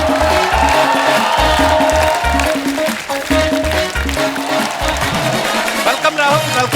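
A studio audience applauds and cheers to welcome a guest on a comedy talk show, loud and continuous and mixed with thumping band music.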